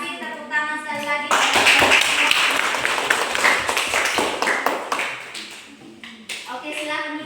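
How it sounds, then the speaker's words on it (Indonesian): A classroom of students claps together during a school science lesson, a dense burst of hand claps lasting about four seconds before thinning out, with a teacher's voice talking before and after. "Tepuk tangan sekali lagi."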